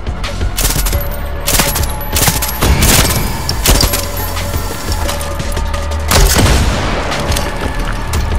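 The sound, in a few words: explosions and gunfire in video game Far Cry 6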